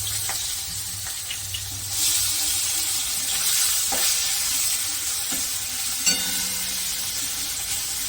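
Chopped tomato goes into a hot pan with chillies and nigella seeds. The quieter background frying jumps into a louder, steady sizzle, with a few sharp knocks and scrapes of stirring close by.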